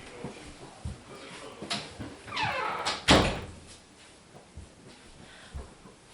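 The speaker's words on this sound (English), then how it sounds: "let me shut this door" The door on a Brother Persona PRS 100 embroidery machine is pulled shut. A brief sliding scrape ends in a solid thunk, followed by quiet handling noises.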